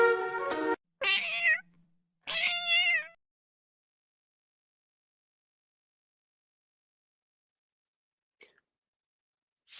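A cat meows three times in quick succession, close and clear, with short pauses between, then silence apart from a faint tick near the end.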